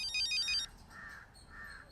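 A bright electronic phone ringtone chirps in a quick melodic burst, then cuts off, leaving quieter tonal beeps over a hushed room.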